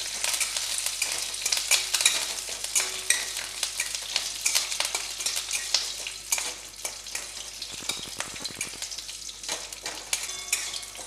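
Five split green chillies and curry leaves frying in oil over a low gas flame, a tempering for Gujarati dhokla. A steady close sizzle continues throughout, broken by frequent scraping stirs of a spoon in the pan, with no voices.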